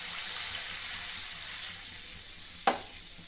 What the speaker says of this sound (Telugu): 1 గ్లాస్ వాటర్ యాడ్ చేసుకోవాలి.